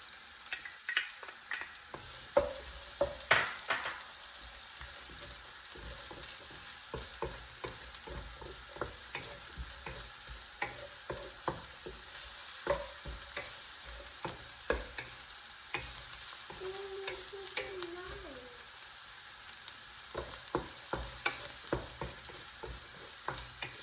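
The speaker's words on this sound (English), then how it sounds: "It was already on the fire. So first I'm gonna add some onions." Onions frying in hot oil in a pan, a soft continuous sizzle with scattered crackles, stirring clicks and utensil taps close by, heard alone without speech.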